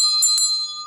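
A hand bell rings to close a contest announcement, with two quick bright strikes followed by a clear sustained ring that fades, loud and close, with no voices.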